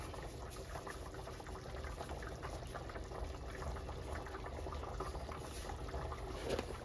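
Beef stew boiling in a pot, a faint, steady bubbling simmer with no voices.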